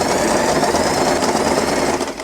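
Sewing machine stitching fabric for a hair bow, a dense steady mechanical whir with fast needle chatter running loud and close throughout, easing off slightly at the very end.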